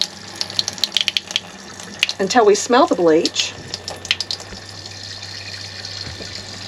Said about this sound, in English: Get the bleach running through this small kitchen faucet